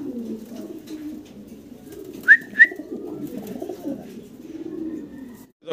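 Racer pigeons coo in a low, continuous murmur close by, broken by two quick sharp chirps midway through.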